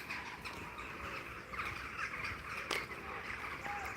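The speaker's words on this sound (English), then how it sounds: "the birds are making that going to bed noise as they settle in the trees." Crows and other birds caw and squawk continuously as they settle into trees at dusk outdoors, a dense steady chorus at moderate distance with no clear talk.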